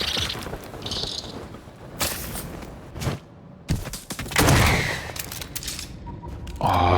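Gunfire in the Lost Skies video game: several loud bursts of automatic fire with heavy thuds and mechanical clatter, broken by short gaps, with a final burst at the end.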